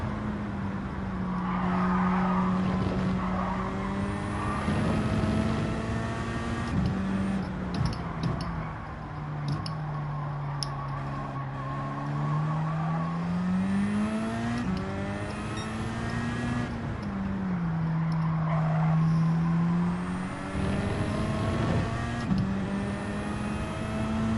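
A race car engine in Gran Turismo 7 is held at high revs, a continuous buzzing drone whose pitch sweeps up and down through gear changes and corners, with faint tire squeal over it.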